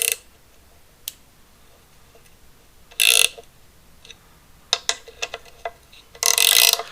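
A ratchet snugs down the head studs on a 4.2-liter 258 engine during head installation, giving a few sparse clicking bursts with faint scattered ticks between them, close and fairly quiet.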